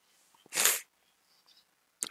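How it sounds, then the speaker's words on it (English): A single close, loud human sneeze bursts out briefly after a few quiet breaths, then the room stays mostly silent apart from faint small noises and a sharp sound at the very end. "I'm about to sneeze"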